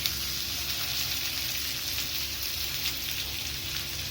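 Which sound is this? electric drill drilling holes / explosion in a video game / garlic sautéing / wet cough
garlic sautéing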